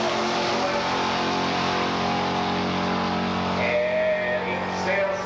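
A 1985 muscle car makes a quarter-mile drag run at Beech Bend, its engine a sustained loud roar heard from a distance, with an announcer's voice over it near the end.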